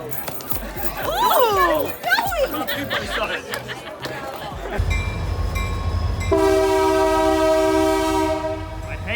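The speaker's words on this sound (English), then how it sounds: "This train." Train noise with a long, steady horn blast in the second half, after a stretch of people talking and chattering.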